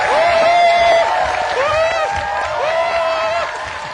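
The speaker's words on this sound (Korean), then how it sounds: "더 큰 박수로 청해 듣겠습니다" Applause and cheering from a talk-show audience greet a lecture speaker, loud and sustained with shouted voices rising above the clapping.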